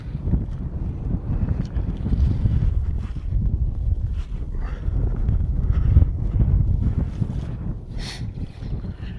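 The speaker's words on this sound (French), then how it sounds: "Il y a du vent, il fait 2 degrés, il y a du brouillard" Wind gusts rumble steadily across the microphone outdoors on a cold, foggy December day at about two degrees near a horse being lunged, a continuous low buffeting with brief faint sounds above it.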